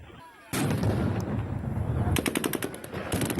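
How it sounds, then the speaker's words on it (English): A sudden loud blast of stun grenades followed by sustained rapid gunfire and bangs, dense and continuous, with a scattering crowd underneath, in wartime Kherson, Ukraine. "The response, stun grenades and gunfire, causing the crowd to scatter."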